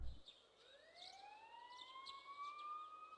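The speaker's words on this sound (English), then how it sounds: "You can hear sirens in the distance." A siren wails in the distance in the video game Persona 4 Golden, its tone rising and holding steady, with faint bird chirps scattered over a quiet background.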